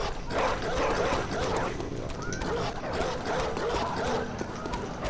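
A dog in the video game Bloodborne gives repeated yipping barks and whimpers amid game noise. A player talks over the sounds.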